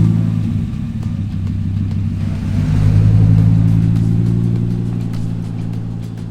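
A Dodge SRT-10 limited edition pickup truck engine revving, loud and close, a deep steady idle that swells into a stronger rev midway, then holds, with no talking.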